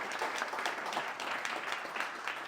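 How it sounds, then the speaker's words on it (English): A group of newly hired team members at an orientation and training session claps for themselves, a continuous, fairly faint patter of many hands with a few sharper individual claps poking through. "Give yourselves a big round of applause"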